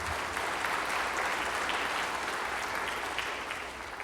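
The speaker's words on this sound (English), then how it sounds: "just want to give him a round of applause" An audience at a keynote event applauds Judge Jones, a steady, even patter of many hands clapping together that tapers slightly toward the end.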